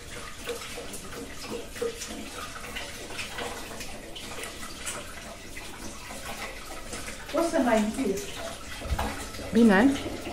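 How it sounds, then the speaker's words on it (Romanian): A kitchen tap runs steadily for hands to be washed, a continuous close hiss of water, while voices talk over it and splashes come near the end. "Mă spăl pe mâini, și dau drumul la apă să fiarbă"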